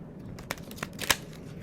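Tarot cards being shuffled by hand, a few quick riffling bursts and snaps spread across a brief moment, close and fairly quiet with no talk.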